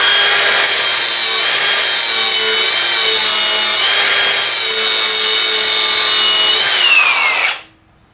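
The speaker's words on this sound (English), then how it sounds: "then I'll take this flap wheel, see what I get" A flap wheel grinding out a crack in the metal of a double tree, a loud, steady high-pitched abrasive whine with a shifting pitch that runs continuously, then spins down and stops at the very end.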